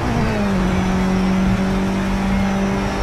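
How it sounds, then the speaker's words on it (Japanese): Mitsubishi Lancer Evolution engine in the Project Cars 3 racing game, a loud continuous engine drone holding a steady pitch with a slight dip midway, no talking. "ランサーエボリューションのこのエンジン音"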